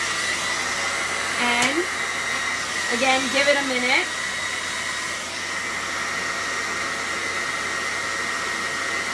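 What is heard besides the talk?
blow dryer melting crayons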